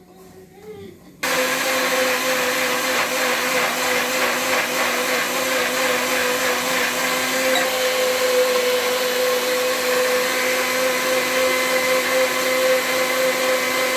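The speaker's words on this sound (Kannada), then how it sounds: "ಈಗ ಇದು ಮಿಕ್ಸಿಯಲ್ಲಿ ರೆಡಿ ಆಗ್ತಿದೆ ಫ್ರೆಂಡ್ಸ್ ಮಸಾಲ" An electric mixer grinder whirs loudly as it grinds masala with pepper, starting abruptly after a brief quiet moment and then running as a continuous steady drone.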